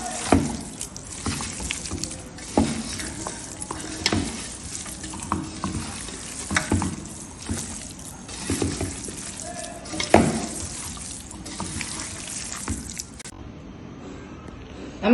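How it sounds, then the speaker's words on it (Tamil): Chicken pieces are squished and mixed by hand in a masala and curd marinade, with repeated wet squelching pulses at a steady rhythm, close and fairly loud. "நல்லா பசஞ்சுக்கோங்க, அப்பதான் மசாலா எல்லாத்தையும் ஈவனா ஒட்டும்."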